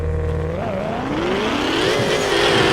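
A car in the mobile game Car Parking revs and drifts, its engine tone rising in pitch with a whining, climbing rev and steady, loud mechanical hum throughout.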